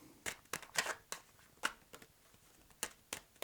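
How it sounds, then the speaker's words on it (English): Playing cards being shuffled and riffled in quick bursts, a series of sharp papery flutters with short pauses between, close by and fairly quiet. "Oh look at my shuffling."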